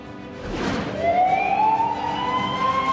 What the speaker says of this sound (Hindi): शब्बीर ने उस दिन देखा कि एम्बुलेंस तेजी से इधर से उधर दौड़ रही थी